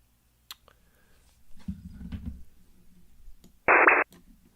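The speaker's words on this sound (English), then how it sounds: "I think it was potentially a Russian over-the-horizon radar." Radio signal believed to be a Russian over-the-horizon radar: faint static and low rumbling noise, then a loud, harsh buzzing burst lasting about a third of a second before fading back to hiss.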